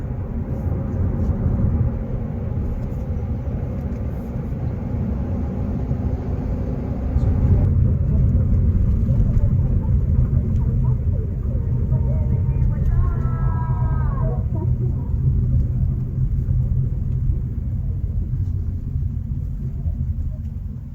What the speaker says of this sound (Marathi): मी या गॅसच्या गाडीला ओव्हरटेक करतोय